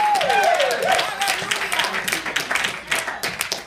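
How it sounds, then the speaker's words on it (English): A church congregation claps hands in a loud, quick, continuous patter while a voice talks over the clapping. "Come on, clap your hands and give God for praise."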